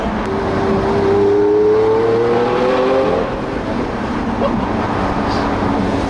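A Lamborghini Aventador LP700-4 cruises in seventh gear at about 64 mph, its engine a steady, loud, low drone with an even hum that barely changes, heard from inside the cabin.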